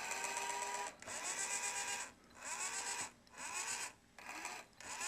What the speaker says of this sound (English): as we turn this pot, the steering nose wheel turns appropriately